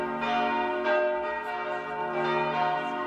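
Church bells chime in a walled old city, their resonant tones ringing out in overlapping strikes and sustained hum, fairly loud and with no voices over them.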